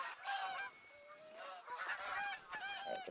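A goose honks in a hunting video game, giving a series of loud, close honks in several bursts with short pauses between them.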